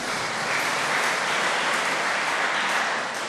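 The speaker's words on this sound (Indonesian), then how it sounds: "Ya, tepuk tangan untuk Bu Adriani." A crowd at a Bogor Cathedral choir event applauds a choir singer, with steady, dense clapping that fills the hall evenly from start to finish and has no voices over it.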